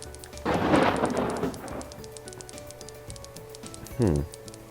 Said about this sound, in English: Definitely seems like lightning is bullying the orcs a little bit more than the elves.